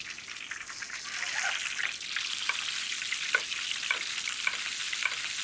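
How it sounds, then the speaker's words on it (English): Dover sole sizzling in butter in a pan while being basted, a steady close frying hiss with rhythmic spoon scrapes and splashes as the fat is ladled over the fish. "You notice I like to do this basting."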